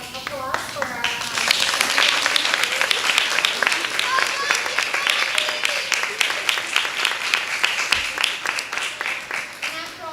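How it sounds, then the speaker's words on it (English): Applause breaks out at a school board award ceremony, a room of people clapping loudly in a dense, sustained burst that continues for several seconds with scattered voices mixed in. "just one more round of applause for our"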